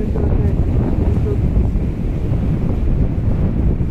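A trawler out on open water in strong wind, with steady, loud wind rumble buffeting the microphone over a continuous low engine and water wash.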